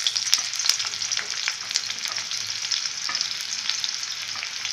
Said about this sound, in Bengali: সরু করে কেটে রাখা পেঁয়াজ, এটাকে একটুখানি ফ্রাই করব।